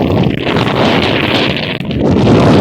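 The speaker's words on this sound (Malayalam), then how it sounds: "നല്ല കാറ്റടിക്കുന്നുണ്ട്." Strong wind blowing outdoors near a fishing spot, buffeting the microphone in a loud, roaring rumble that swells and dips briefly without pause.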